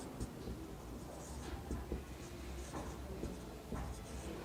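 Chalk or marker scratching on a board during a Bengali physics lesson on refraction of light, with continuous scraping strokes and short taps close up over a steady room hum.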